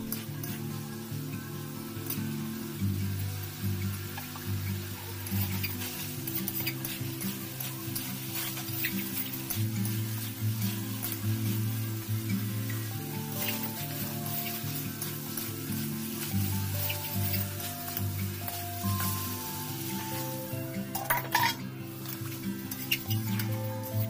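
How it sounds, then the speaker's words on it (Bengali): Pointed gourd frying with spices in a pan, stirred now and then for a couple of minutes, a soft continuous sizzle under a steady background hum with occasional scraping. "পটলগুলো দিয়ে দেবো, পটলগুলো দিয়ে ভালো করে কষাবো 2 মিনিট।"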